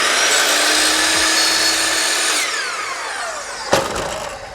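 A chop saw cuts a sliver off wood. A loud, close, high whine runs for a couple of seconds, then the blade spins down with a falling pitch, and a sharp knock sounds near the end.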